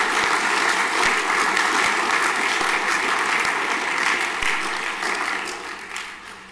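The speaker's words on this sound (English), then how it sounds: "big round of applause for those students who competed in New Zealand National Triathlon" Sustained applause fills a school assembly hall, dense and steady, honoring students who competed in the New Zealand National Triathlon, before gradually tapering off toward the end.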